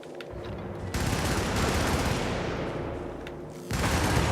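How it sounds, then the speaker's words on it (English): A deployed defensive machine-gun turret in Helldivers rattles off sustained automatic fire, loud and dense, running for seconds with a brief lull before another heavy burst. "They're putting down a turret"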